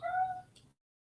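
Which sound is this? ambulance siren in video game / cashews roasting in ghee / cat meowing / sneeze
cat meowing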